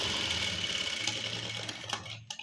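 A sewing machine stitches a shaped belt in a steady, close mechanical whir of rapid needle strokes that runs continuously, then slows and stops with a few final clicks.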